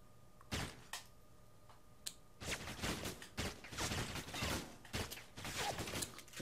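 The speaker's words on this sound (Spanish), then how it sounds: "Disparo a la cabeza y disparo a la cámara" Bursts of loud gunfire in the video game Alpha Protocol, several rapid volleys with brief gaps, punchy and close.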